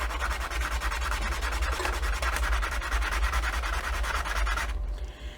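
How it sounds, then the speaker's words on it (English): A wooden finial piece is sanded flat with quick, steady back-and-forth rasping strokes, close and even, stopping abruptly near the end. "So we're going to sand that piece."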